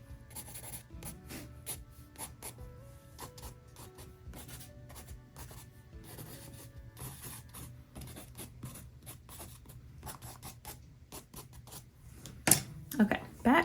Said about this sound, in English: You can add scribbly lines into your petals if you feel like they need a little something.